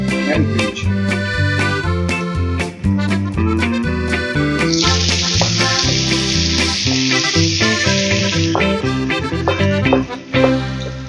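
Tomato and brinjal sizzle in a pan with cooked onion for soya keema, a loud, steady frying hiss that swells midway, heard under rhythmic background music.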